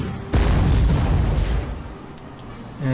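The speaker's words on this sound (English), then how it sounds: "Use our tanks to take out their large artillery unit here. Weaken it. And hit them with artillery." Artillery fire in the WWII strategy game Panzer Corps, a single heavy booming blast with a rumbling tail that fades over a couple of seconds, ending in a faint thud.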